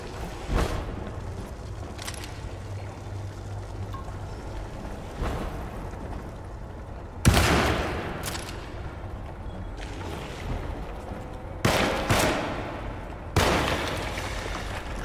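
Sharp 12-gauge shotgun blasts from the Alone in the Dark video game, a handful of loud irregular booms spaced seconds apart over a quiet ambient background.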